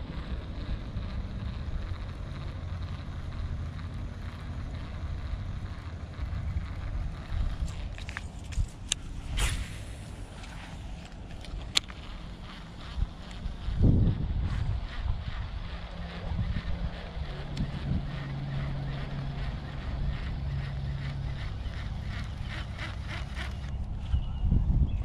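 Steady wind rumbles low and constant for a long stretch on a very windy day while bass fishing, with occasional knocks and clatter in the background.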